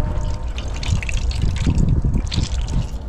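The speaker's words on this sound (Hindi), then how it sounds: "इसको देखिए इसका पानी निचोड़ के हम निकाल लेंगे" Water squeezed by hand out of soaked, swollen soybeans: close, continuous trickling and dripping with small splashes, fairly loud and alone.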